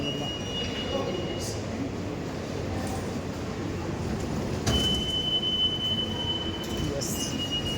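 A metro train rumbles steadily from inside a carriage, with a thin sustained wheel squeal and occasional brief clanks over the constant roar.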